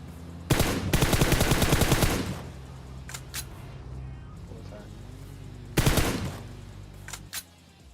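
AWM sniper rifle fire in PUBG Mobile comes as two loud, close bursts of sharp cracking shots, separated by quieter gaps with a few isolated faint reports.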